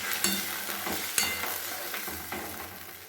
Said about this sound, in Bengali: দিয়ে এবার আমি ভালো করে মিশিয়ে নেব।